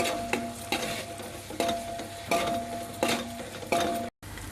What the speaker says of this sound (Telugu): ఇప్పుడు ఈ ఉల్లిపాయ పేస్ట్ను బాగా వేగనివ్వాలి